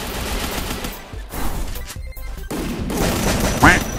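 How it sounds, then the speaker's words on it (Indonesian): Bursts of rapid gunfire crackle through a noisy Free Fire game soundscape, with dense volleys broken by brief pauses and a sharper shot near the end. "Suara tembakan."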